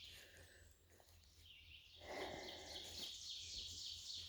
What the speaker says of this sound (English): I'm grateful for all the green I'm seeing and for all the birds I'm hearing